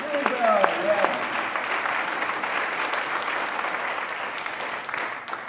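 Steady audience applause fills a room at a school state-of-the-school event, dense and sustained at moderate distance, with a few voices briefly audible near the start.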